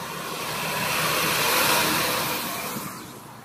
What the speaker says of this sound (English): A littler truck.